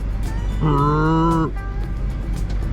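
A person imitates an elk call with a single drawn-out, nasal, moo-like tone lasting about a second, amid quiet outdoor background noise.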